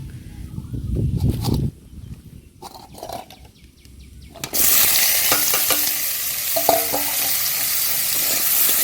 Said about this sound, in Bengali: তো কড়াটা গরম হয়ে গেছে, তেল দিয়ে দিলাম।